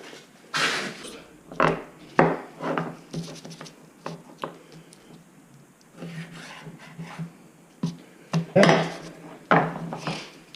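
A knife trims pork baby back ribs on a board, giving irregular scraping, scratching and knocking sounds in short clusters with quiet gaps between them, close and moderately loud.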